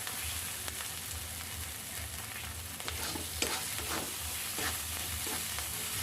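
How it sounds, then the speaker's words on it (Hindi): Stuffed pointed gourd (parwal) fries in oil in a pan, giving a constant close sizzle with occasional scrapes and clinks as it is stirred. "देखिए अब ये भून चुका है, तेल छोड़ रहा है साइड साइड से"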